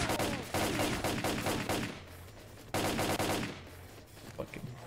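Automatic gunfire in the shooter game S.T.A.L.K.E.R.: Clear Sky, two loud sustained bursts of rapid shots separated by a brief gap, then fading into quieter scattered reports.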